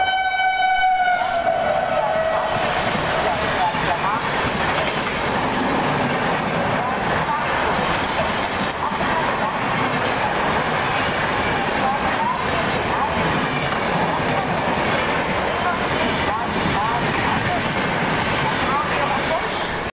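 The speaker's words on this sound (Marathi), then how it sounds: "ગાડી પસાર થઈ રહી છે." A train horn blares at the start, then a long steady roar of a train rolling through, loud and close, with faint voices around.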